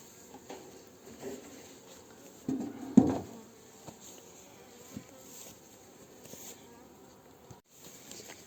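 Honeybees buzz around a small polystyrene nucleus hive. A steady, close hum of many insects continues throughout, with a louder knock or handling sound briefly in the middle.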